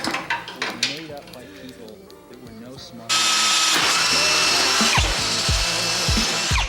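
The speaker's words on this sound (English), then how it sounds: "Gotta mark them and drill the hole." After some brief clanking and handling noises, a power drill whirs loudly and steadily nearby, drilling holes for parts of an E28 big turbo build, bogging down slightly as it bites.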